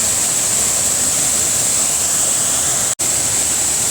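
Thi Lo Su waterfall roars as a close, loud, unbroken wash of falling water, with one split-second dropout near the end.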